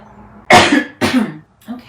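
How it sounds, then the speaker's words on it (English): A person clears their throat twice in quick, loud, close bursts, then gives a fainter third rasp. "Maybe clear my throat here."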